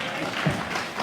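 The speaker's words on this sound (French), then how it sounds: "Applaudissez pour pasteur" A church congregation applauds the pastor during a service: a short burst of steady crowd clapping with a murmur of voices mixed in, close and fairly loud.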